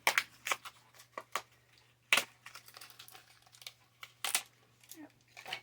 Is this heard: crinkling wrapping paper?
yes